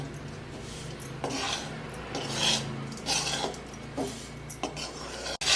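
A spoon scrapes and stirs a thick jaggery mixture in a pan with the gas switched off, making repeated rasping strokes that rise and fall in a loose rhythm, close and moderately loud.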